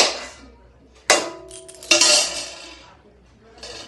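Plates being rinsed as water is poured over them, with sharp metallic clattering bursts, clinks and splashing at close range, a quieter rattle trailing off at the end.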